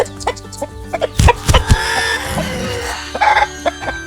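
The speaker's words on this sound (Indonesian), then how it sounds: "Yang agak aneh itu tuh yang ini nih agak aneh ayam Brahma." Brahma chicken at a family adventure farm near Jakarta, clucking up close in short, irregular bursts, with a few sharper squawks and some faint background noise between the calls.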